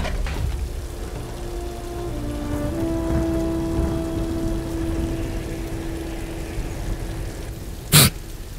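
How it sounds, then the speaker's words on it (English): Rain falling in the video game Tomb Raider, a steady dense patter throughout with a faint tonal hum and one sharp loud burst near the end. "it just started to rain"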